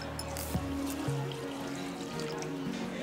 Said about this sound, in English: we've got to add our liquids. So we've got about a cup of water.